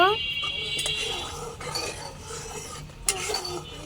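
Sugar and cornflour mixture is stirred in a pot, giving quiet rasping scrapes and a few light clinks of a spoon against metal.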